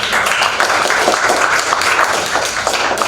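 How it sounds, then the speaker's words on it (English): Audience applause for a lecturer at the close of a talk on early Christian iconography, a steady, dense wash of many hands clapping that holds at an even level for the whole stretch, with no voices above it. "Please a big applause for Keith"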